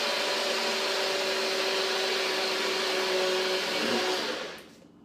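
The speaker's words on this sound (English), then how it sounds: "So with the Nutribullet, you screw the lid on like this. And then, I'm gonna blend it until it's smooth." A Nutribullet blender whirs steadily while blending buckwheat crepe batter, a loud, even motor drone with a slight shift in pitch near the end. It then winds down and stops.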